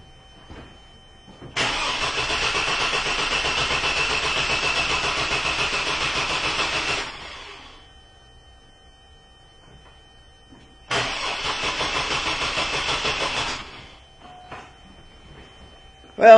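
A car engine with a no-spark fault cranks but fails to start, two long bursts of rhythmic starter churning, about five seconds and then under three seconds, separated by silence, with the cranking pulses sounding slightly laboured.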